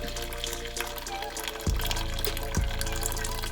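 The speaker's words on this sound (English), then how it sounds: "So, I'm going to pour my juice in." Juices from pressure-cooked beef short ribs are poured out in a steady, soft trickle over a low background hum, with two brief knocks partway through.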